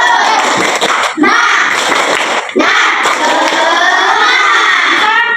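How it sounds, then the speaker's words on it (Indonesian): Schoolchildren in a classroom perform the tepuk semangat clapping chant, a loud burst of shouting voices and rhythmic claps with short pauses between phrases. "Jadi kalau Ibu bilang tepuk semangat, kamu semangat."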